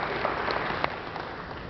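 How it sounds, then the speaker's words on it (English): Brief, fairly steady applause from an audience at a community school meeting, a soft continuous patter of clapping heard from a distance. "Now, that is a worthy of applause, because that says our kids are doing better."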